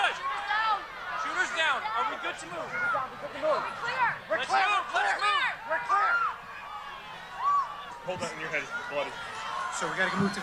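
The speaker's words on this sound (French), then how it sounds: "Écoutez ces cris d'horreur." A crowd at a political rally screams and shouts in panic after gunshots aimed at Donald Trump, a dense mass of overlapping cries and yells that swell and fade throughout.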